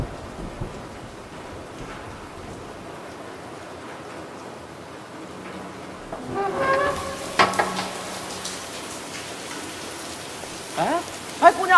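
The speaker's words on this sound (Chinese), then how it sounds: "外边下着雨呢。" Rain falls outside as a typhoon approaches, a soft steady hiss that swells midway with louder splashes and thumps, while a few voices speak nearby.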